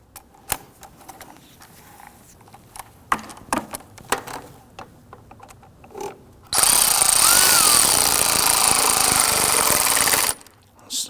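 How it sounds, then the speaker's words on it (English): A power tool tightens the lower throttle-body clamp on a 2009-2017 Volvo XC60 engine. It whirs in one loud, steady burst of about four seconds after scattered clinks and handling noises. "We'll tighten down the lower clamp on the throttle body first."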